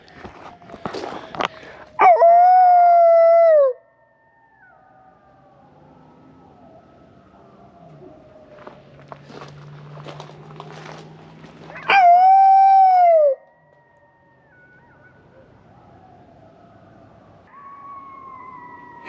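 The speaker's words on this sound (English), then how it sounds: "Little dang coyote's going crazy." Coyotes howl outdoors in two long, rising-then-falling wails several seconds apart. Scattered yips, rustling and faint low sounds fill the gaps, while a person talks briefly in between.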